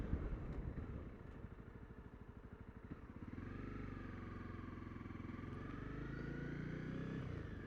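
A motorcycle rides through the Belfast shipyard, its engine rumbling close and steady, starting with a choppy idle-like patter before settling into a smoother, rising drone as it pulls away, no talk.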